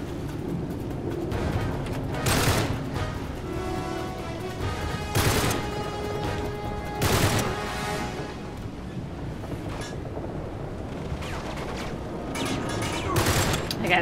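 Gunfire in the video game Uncharted 3: Drake's Deception, with several loud bursts of shots separated by quieter stretches of game ambience and occasional voices.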